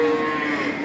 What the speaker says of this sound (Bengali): ষাড় বাছুর।